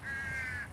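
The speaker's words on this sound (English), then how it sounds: "got a couple of crows staring at me." A single crow gives one drawn-out caw, fairly close and clear, over a faint outdoor background.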